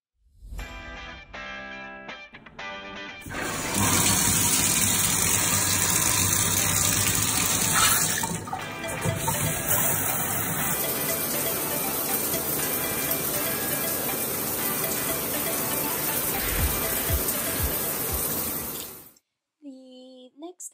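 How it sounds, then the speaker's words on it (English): Steady running water pours from a shower while hair is washed, a loud continuous gush that holds for most of the stretch and then cuts off near the end. "Next thing I do is wash my hair with shampoo and conditioner"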